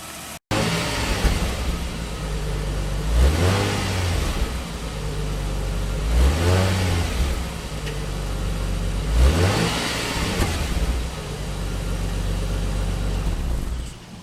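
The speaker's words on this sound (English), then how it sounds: "what a great sounding exhaust" A 2000 Dodge Intrepid ES engine revs hard three times in a row, each roar of the exhaust rising and falling back to a rumbling idle, loud and close.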